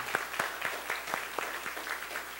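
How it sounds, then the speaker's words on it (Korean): A church congregation gives a short, fairly faint round of applause to bless an elderly father back after illness, with scattered steady claps heard from a distance. "우리 박수로 한번 축복하겠습니다"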